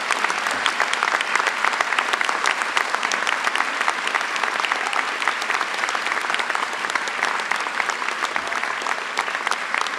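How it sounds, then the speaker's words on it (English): Loud, sustained applause from a large crowd at a medical school class day ceremony, dense clapping filling the whole stretch without letting up. "give them applause beyond belief to your parents, to your faculty, and to all of those that made this possible"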